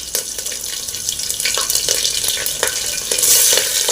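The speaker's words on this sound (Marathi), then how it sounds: "1 चमचा जिरे घालूया, 2 हिरवी मिरची मोठी मोठी कापून घेतलेली आहे ती घालूया" Cumin seeds and chopped green chillies sizzle steadily in a hot pan with oil and mustard seeds, a continuous close frying crackle with a few brief clicks and stirring scrapes, no talk.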